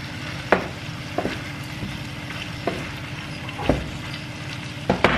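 Pakbet, a Filipino vegetable dish, sizzles in a pan on the stove. A continuous frying hiss is broken by periodic scraping stirs about once a second.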